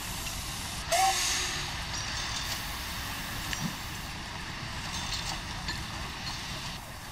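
A train in the Mashinky railway game pulls away from the station with a steady steam hiss and rolling rail rumble, a brief whistle-like tone near the start, then a constant mid-level wash without talk.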